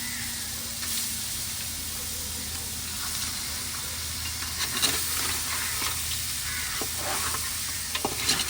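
Crab curry cooking with masala in a pan: a steady, close sizzle and hiss of frying with occasional soft stirring scrapes and pops throughout, no talking.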